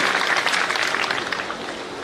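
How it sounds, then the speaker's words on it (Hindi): Audience at a Rajasthan cow protection conference breaking into loud, close applause, a dense burst of clapping that tapers slightly toward the end. "एक जोरदार तालियों के साथ अभिनंदन करें श्री मेवाराम।"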